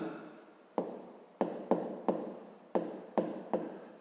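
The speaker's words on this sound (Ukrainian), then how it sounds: "давайте, мабуть, це запишемо" Handwriting during a fifth-grade geometry lesson: a pen scratches across paper in about eight short, close strokes, each starting sharply and trailing off, quiet and alone.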